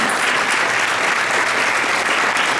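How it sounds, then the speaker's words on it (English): An audience at a classical arts society event in Houston applauds warmly, dense steady clapping from many hands filling the room without letup. "Please give her a huge round of applause."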